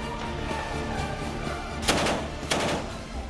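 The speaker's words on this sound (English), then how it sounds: "shelling and sniper and artillery attacks are still dominating the atmosphere in the city" Wartime gunfire in the Syrian city of Al-Qusayr, with two sharp, loud cracks standing out against a dense, continuous rumble of distant shooting and shelling.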